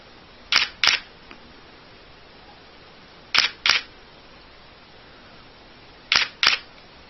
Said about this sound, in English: The camera's a Nikon D7000, and I'm shooting at the highest shutter speed, 0/8000th of a second